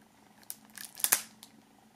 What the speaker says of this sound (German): auch dieses hier mal aus der Folie befreien.